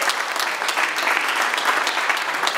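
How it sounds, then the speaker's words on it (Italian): Audience applause fills a hall at an international award ceremony in Palermo, a steady dense clapping from a large crowd, loud and continuous throughout with no voices breaking through. "vorrei che facessimo un grande applauso"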